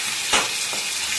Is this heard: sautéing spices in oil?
yes